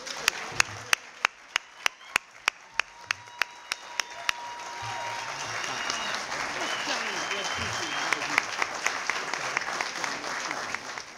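An audience applauds to welcome Dr. Maulana Karenga at a Kwanzaa anniversary event: a few sharp, distinct claps at first, then the applause swells into steady, full clapping from a crowd, with a voice speaking over it.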